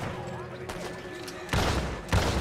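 Shotgun blasts in the Red Dead Redemption 2 western video game, two heavy booming shots in quick succession after a stretch of game ambience and music, close and loud.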